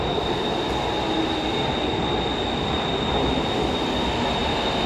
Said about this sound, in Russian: Вот и наш поезд приехал.